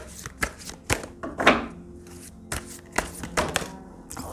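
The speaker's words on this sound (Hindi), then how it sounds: "यूनिवर्स की तरफ से आपके लिए कार्ड लेते हैं।" A deck of tarot cards is shuffled by hand, giving a series of soft, irregular riffling bursts and taps spread across several seconds, close up and fairly quiet.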